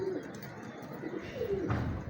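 A female pigeon gives soft low coos, two or three brief calls close by against a quiet murmuring background.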